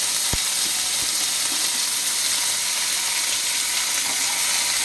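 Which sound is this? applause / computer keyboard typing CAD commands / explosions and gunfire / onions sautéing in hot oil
onions sautéing in hot oil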